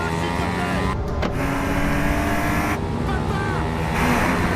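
A car drives fast with a steady, dense road and engine roar throughout, heard from inside or close by, and a few brief breaks in the noise.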